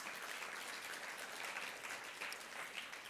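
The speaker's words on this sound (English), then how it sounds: "Let's give them a round of applause." An audience claps steadily at a panel discussion event, a dense patter of applause heard at a moderate distance.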